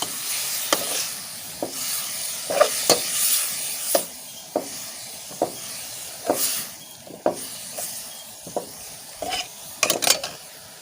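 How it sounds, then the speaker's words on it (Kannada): Ground tomato being added to masala frying in a pan for soya bean sukka: a close hissing sizzle punctuated by sharp, irregular spoon scrapes and taps against the pan. "ಇವಾಗ ನಾನು ಒಂದು ಟೊಮೆಟೊ ಹಣ್ಣು ಗ್ರೈಂಡ್ ಮಾಡಿದ್ದಕ್ಕೆ ಸೇರಿಸಿಕೊಳ್ತಿದ್ದೇನೆ"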